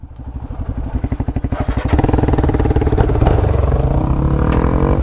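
A Royal Enfield Himalayan 450 rides off-road close by, its engine thumping in a rapid pulsing rhythm before rising into a loud, sustained roar as it pulls hard.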